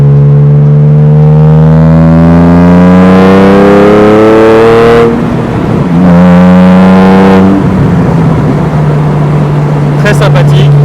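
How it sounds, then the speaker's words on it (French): Morgan Roadster with a 3.7-litre V6, finished in Whisky Cognac, accelerating hard, its engine note climbing through rising gear pulls with brief shift breaks, loud and close throughout. "Désormais, je vais vous laisser apprécier une petite accélération."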